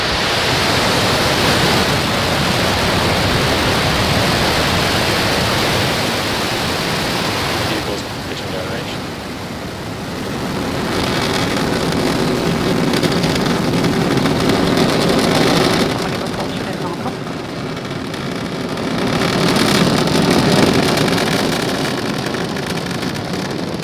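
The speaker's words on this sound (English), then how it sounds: "Ignition." A rocket launch in the Spaceflight Simulator video game gives a continuous broad roaring rush that swells and eases in waves, loud and steady throughout, with no talking.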